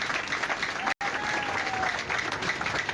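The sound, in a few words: crowd applause at a rally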